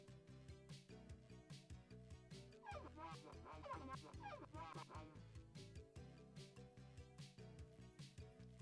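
A cartoonish puppy in the video game Not A Hero gives short yips and whimpering cries over looping, rhythmic game music, with a burst of busier sound effects in the middle.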